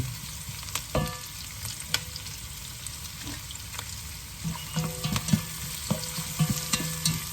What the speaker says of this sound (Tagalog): Let's cook the onion first before we put the roll.